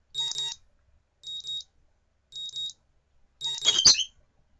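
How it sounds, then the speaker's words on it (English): A morning alarm clock in the visual novel Katawa Shoujo beeps in three short evenly spaced electronic bursts, then a fourth burst cut off by a thud as it is switched off. "The morning alarm sounds and I roll over, switching it off."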